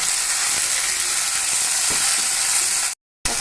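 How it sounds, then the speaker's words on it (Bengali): Chopped tomato frying with mutton in a pan, a loud continuous sizzle with a few soft stirring scrapes, cut briefly by a moment of silence near the end. "আমার যে কুচো করা যে টমেটোটা ছিল সেটা আমরা দিয়ে দেবো দিয়ে একটু নেড়ে চেড়ে"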